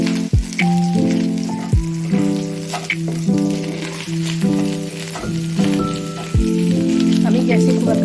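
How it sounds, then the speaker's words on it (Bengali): Fish roe fries in oil in a pan, giving a steady close sizzle and crackle, with a voice talking over it and clinks of a utensil against the pan. "ডিমটা একটু ফ্রাই হবে। দেখো, আমি আর একটু তেল দিলাম,"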